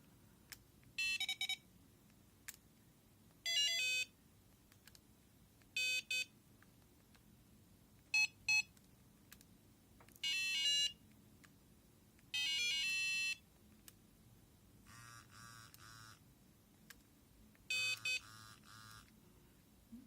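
A GoodLink G100 phone, a BlackBerry-style copy, plays a run of short ringtone previews one after another: about eight separate electronic melodic bursts with brief quiet gaps between them, clear and close with a faint hum underneath.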